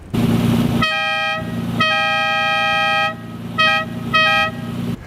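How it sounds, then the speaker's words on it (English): A small, high-pitched Lamborghini Countach car horn toots three times: one long blast, then two shorter honks, loud and close with a low engine hum underneath. "Another one of the Countach's most ridiculous characteristics is its dinky little horn."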